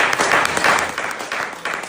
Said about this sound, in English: They're clapping for her, Bill.